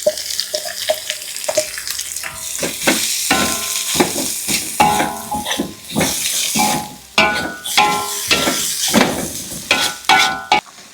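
Continuous sizzling and frying of cassava leaves with frequent scraping and stirring clatter in a pan, close and fairly loud, with no talking.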